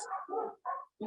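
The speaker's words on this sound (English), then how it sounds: "I apologize for my dogs." A dog gives a short burst of close barks, three quick yaps in a row, fairly quiet and alone without talk.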